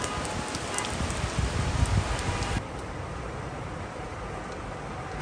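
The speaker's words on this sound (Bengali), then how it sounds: "দেখেন সেই বৃষ্টি হচ্ছে, অনেক বৃষ্টি" Steady, dense hiss of heavy rain pouring down nearby, louder at first then easing to a softer but continuous downpour.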